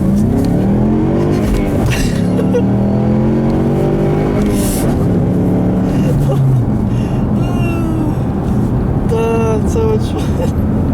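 A Ford Mustang accelerates, the engine rising in pitch through a couple of gears and then dropping, loud and close, with road and wind noise underneath and a voice talking briefly near the end.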